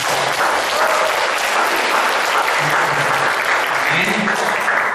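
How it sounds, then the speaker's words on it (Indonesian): Applause from a wedding congregation fills a church after the vows, sustained and dense throughout, with faint voices underneath. "Mari kita berikan tepukan."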